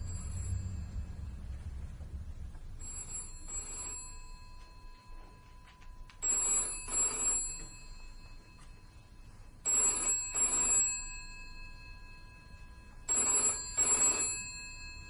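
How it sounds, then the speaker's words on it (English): An old-style telephone bell rings in four spaced double bursts, loud and metallic against a quiet room. "Is that the phone?"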